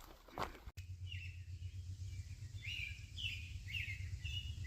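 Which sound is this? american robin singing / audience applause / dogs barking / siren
american robin singing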